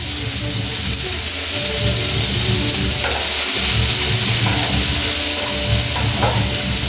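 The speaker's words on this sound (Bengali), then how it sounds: "এখানে আমি দুটো মাঝারি সাইজের পেঁয়াজ যে কেটে রেখেছিলাম, সেটা আমি এর উপর দিয়ে দেবো। দিয়ে ভেজে নেব।" Two chopped medium onions frying with garlic in a hot pan, a steady close sizzle and crackle running continuously with occasional stirring scrapes, no talking.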